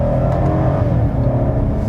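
A 2018 BMW M5 F90 engine revs hard with a loud, dense roar and exhaust plop, heard close and sustained for about two seconds with no talking.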